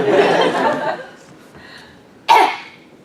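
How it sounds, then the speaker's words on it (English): A single close, muffled cough rings out, followed by a brief quiet and then a second sharp cough or throat noise. "I want you to cough into the phone"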